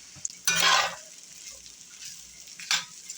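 Potatoes fry in a very big cast iron frying pan, giving a soft steady sizzle with two louder bursts of crackle or stirring, the rest of the time low and quiet.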